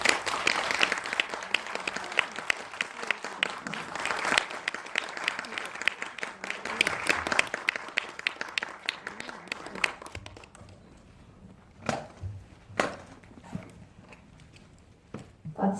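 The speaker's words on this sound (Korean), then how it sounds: "큰 박수로 마츠다 다이시 감독님 모셔보겠습니다." A film society audience applauds to welcome a film director at a post-screening talk. Loud, dense clapping runs for about ten seconds, then thins to scattered claps and quieter room noise.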